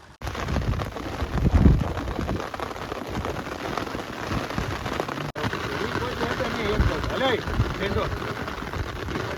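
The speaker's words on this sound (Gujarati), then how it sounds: "વરસાદ ચાલુ થઈ ગયો છે અને જો વરસાદની ધબધબાટી બોલાવે છે." Steady rain pours down throughout in the hills, a dense continuous hiss with heavier bursts, while a voice talks over it.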